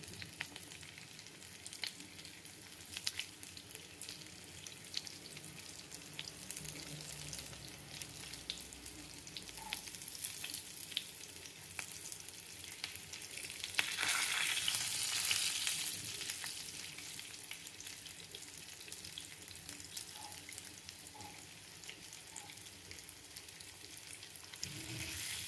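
Cutlets fry in a pan over a medium flame, a soft continuous sizzle with a brief louder crackling burst midway and occasional light clinks, no talking.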